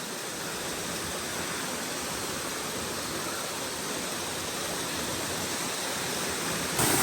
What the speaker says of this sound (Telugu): చిన్న వాటర్ ఫాల్.